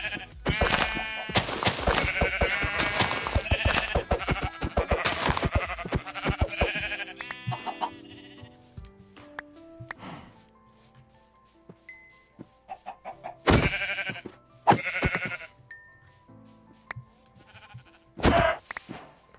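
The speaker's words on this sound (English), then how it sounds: "There's the sheep I needed." Sheep in the video game Minecraft bleat in repeated wavering cries, several in quick succession and then scattered single calls, with chicken clucks mixed among them. The calls are clear and close against a quiet background.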